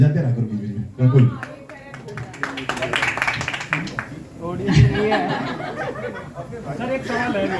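A crowd claps at a promotion event for the film Mere Husband Ki Biwi, with bursts of clapping mixed with laughter, chuckles and overlapping chatter from nearby voices.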